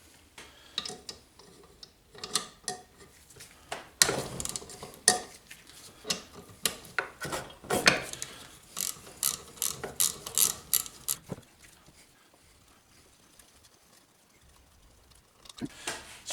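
Wrench working the connecting rod bolts on a Briggs & Stratton 3.5 HP vertical-crankshaft lawnmower engine, heard as close, rapid metallic ratcheting clicks in bursts, mostly continuous for about eleven seconds, then a quiet stretch and a final few clicks, with no talking.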